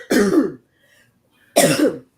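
Two harsh, close throat-clearing coughs, separated by a second of near silence, each a short rough burst.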